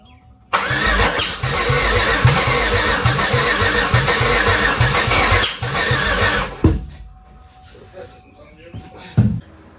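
A Chevrolet Malibu engine cranks and catches, then runs loud and steady for about six seconds before cutting off. A couple of brief knocks follow in the quieter tail.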